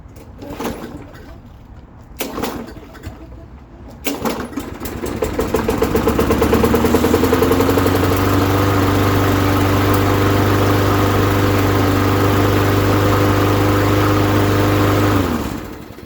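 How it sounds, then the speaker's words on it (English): A Craftsman 6.75 HP lawn mower is pulled to start with a few rasping cord tugs, then catches and runs at a steady, loud, close idle for several seconds before cutting off. "I'm going to pull start this."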